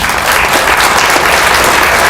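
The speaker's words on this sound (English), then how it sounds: "I believe that these gentlemen deserve a round of applause." Loud, close applause from a small-town political forum audience for sheriff candidates, a dense continuous clatter of clapping hands filling the whole moment.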